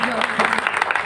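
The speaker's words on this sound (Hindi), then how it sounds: "बार जोरदार तालियां।" Applause from a crowd gathered for a BJP tricolour motorcycle rally in Bhadra, Hanumangarh, celebrating Azadi ka Amrit Mahotsav; dense, steady clapping and cheering, loud and continuous throughout.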